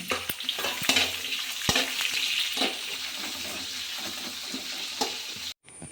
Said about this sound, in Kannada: ಇದು ಕಲರ್ ಚೇಂಜ್ ಆಗೋ ತನಕ ಮೀಡಿಯಮ್ ಫ್ಲೇಮಲ್ಲಿ ಫ್ರೈ ಮಾಡ್ಕೊಳ್ಳಿ